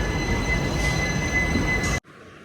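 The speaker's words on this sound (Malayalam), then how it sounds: "ഇവിടെ നിന്ന് എടുത്തിരിക്കുകയാണ് ട്രെയിൻ." The Mangalore Central Express departs the station with a loud, close, rumbling roar and faint steady tones for about two seconds, then cuts off abruptly.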